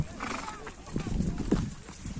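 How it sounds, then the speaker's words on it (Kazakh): Horses at a rural village gathering move nearby, with soft hoof clip-clops and an occasional snort under a voice and background chatter. "Аттар көп."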